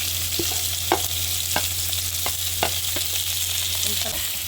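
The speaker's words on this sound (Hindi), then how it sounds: "इन सबको अच्छी तरह से सौटे करेंगे।" Chopped carrots and cabbage sizzle steadily in a hot pan with browned onions, a continuous frying hiss broken by occasional stirring clacks and scrapes, close and moderately loud.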